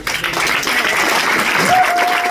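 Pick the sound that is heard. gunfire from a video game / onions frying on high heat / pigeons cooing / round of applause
round of applause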